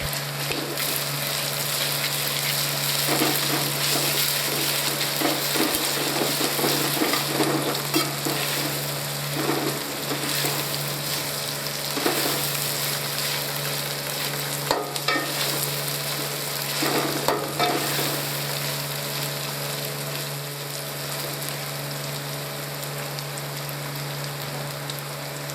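Ginger and garlic frying in a hot pan for a masala tinda dish, a steady close sizzle with occasional scraping stirs throughout.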